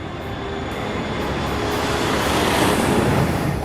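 Airliner jet engines roar during the takeoff climb, a broad steady rushing noise that swells slightly louder toward the end, heard continuously without speech.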